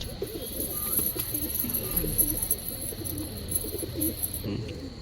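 Desi pigeons cooing in a steady series of soft, low, rolling coos that run close and continuous, with faint background noise and no clear speech.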